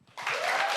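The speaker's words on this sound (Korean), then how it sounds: "여러분 다시 한번 장동혁 당대표님께 뜨거운 박수와 환호 부탁드립니다" Party members applauding and cheering their newly elected party leader at a political convention, clapping that bursts in suddenly and swells into a loud, dense crowd ovation.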